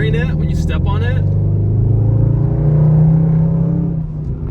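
A Dodge Magnum RT, a budget hearse build, revs hard under acceleration, a deep rising engine roar swelling and holding, with a person speaking over the start.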